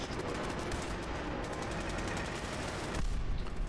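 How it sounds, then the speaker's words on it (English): Gunfire from a raider versus synth battle in the video game Fallout 4, rapid overlapping shots and machine-gun bursts rattling continuously at a moderate distance. "Who is shooting at who?"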